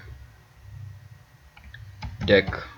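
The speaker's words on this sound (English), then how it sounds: "we come here, hit slash key, and then we type in deck" Keys on a computer keyboard are typed while setting up a DJ software key mapping: faint scattered clicks at first, then a quick close burst of keystrokes near the end.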